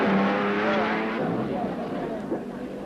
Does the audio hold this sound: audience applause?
no